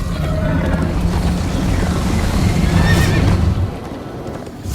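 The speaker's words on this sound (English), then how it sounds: "First time on a horse here." A horse whinnies loudly over a steady rumble of galloping hooves in Minecraft: Story Mode, with a rising neigh near the end amid constant noisy motion.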